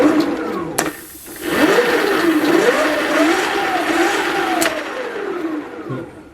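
A 1/3 scale V10 RC car engine runs with its gearbox, the gearbox holding no oil; a close, steady mechanical whine rises and falls in pitch with revs, with two sharp clicks.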